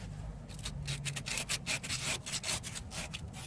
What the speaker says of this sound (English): I'll go back to my tiny bit of sandpaper.